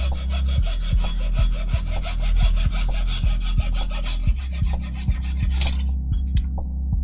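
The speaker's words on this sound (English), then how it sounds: "And get the hacksaw. This should make some pretty quick work of it pretty fast." A hacksaw cuts a part for a PlayStation robot build on a workbench, with steady back-and-forth rasping strokes in a regular rhythm, close and fairly loud, ending abruptly near the close.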